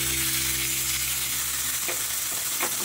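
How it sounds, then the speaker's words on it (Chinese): Food sizzles in a pan, seasoned with salt and pepper, giving a steady bright frying hiss over a low hum, with a couple of soft scraping or stirring touches near the end and no talk. "然后已经撒好盐和胡椒了，然后再煎一下下就可以出锅啦。"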